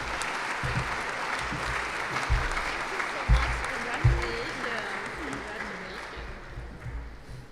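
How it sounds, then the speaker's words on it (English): An audience at an awards gala dinner applauds steadily, a broad wash of clapping with a few louder claps, while a voice speaks over it. "please, another round of applause for this extraordinary woman"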